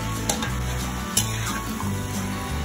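Bottle gourd goes into a hot pan and is stir-fried, giving a steady close sizzle with a few brief clinks and scrapes of the utensil against the pan.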